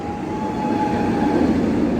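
Steady rolling rumble of the Vortex roller coaster at Carowinds in Charlotte, North Carolina, running on its track, with a sustained whine above a loud, continuous roar that swells slightly toward the end.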